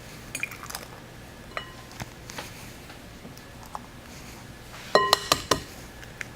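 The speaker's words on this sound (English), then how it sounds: "We're gonna start cracking our eggs for our egg wash." Eggs cracked for an egg wash while making chicken fried steak, a few sharp clicks and taps against a bowl, with a cluster of bright clinks near the end in a quiet kitchen.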